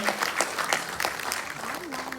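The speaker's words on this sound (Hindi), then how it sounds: "जोरदार तालियों से धन्यवाद अर्पित करें" Audience applause at the CSS Day 2023 ceremony in Delhi's Ambedkar International Centre: steady, close crowd clapping with distinct hand claps throughout, a faint voice or tone lingering beneath.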